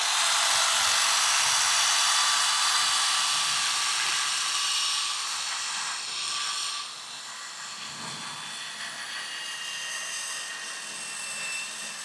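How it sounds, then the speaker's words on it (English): A high, steady whirring hiss of a sanding drum spinning in a battery drill, smoothing aluminium edges continuously at close range with a slight change in pitch partway through. "Little old sanding drum in a battery driver."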